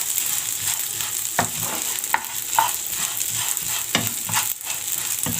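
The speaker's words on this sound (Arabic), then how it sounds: "نقلب بقى في الشعرية بتاعتنا لحد ما تاخد ايه لون واحد معاكي." Vermicelli toasting in a pan is stirred steadily under a constant dry sizzle, with several sharp scrapes of the utensil against the pan standing out at irregular moments; no voices.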